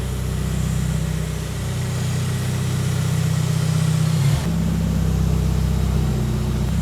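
A tuned Subaru WRX engine idles steadily up close, a deep even drone with a brief dip and recovery midway, running on its initial map.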